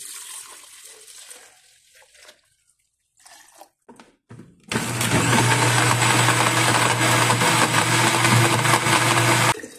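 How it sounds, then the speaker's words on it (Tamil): A mixer jar whirs loudly and steadily, blending soaked fruit paste (apricot and mixed fruit) into juice. A few short knocks and rattles come first, then the motor roars unbroken for about five seconds. "இப்போது நான் மிக்சர் ஜாரில் ஆட் பண்ணிவிட்டு பிளெண்ட் பண்ணிக்கிறேன்"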